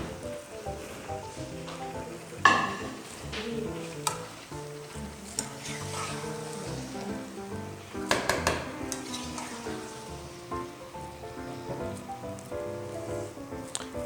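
Tomatoes are added to aloo gosht in a pot, with a soft sizzle of frying under scattered clinks and scrapes of a spoon against metal, quiet and close.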